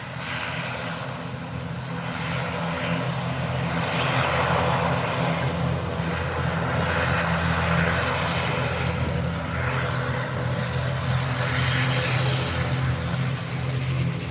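An ATR turboprop airliner taxis toward the runway for takeoff at Howard Hamilton International, heard from inside the cabin as a loud, steady propeller and engine drone that swells slightly and persists throughout.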